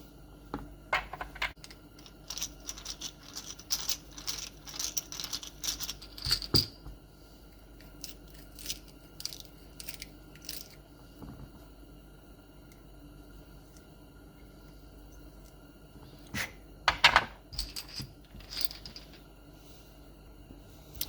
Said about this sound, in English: So I'm going to go ahead and get these reamed, or make sure they're reamed.